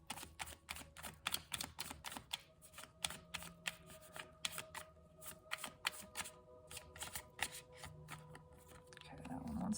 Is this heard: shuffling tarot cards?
yes